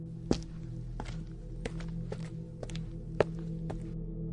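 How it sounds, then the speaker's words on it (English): Footsteps as a sound effect in a horror story narration, slow evenly spaced thuds about every half second over a low droning background, with one or two heavier steps standing out. "I could hear footsteps again."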